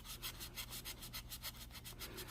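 A 400-grit sanding sponge rubs by hand across the bodywork of a 1969 Dodge Charger R/T near chrome trim, a faint, steady back-and-forth scrubbing in quick regular strokes.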